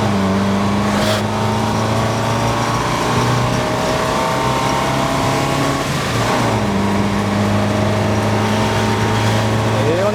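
Ford Taunus car accelerating from a standstill to 90, its engine droning loudly up through the revs from inside the cabin, with a brief dip around a gear change midway.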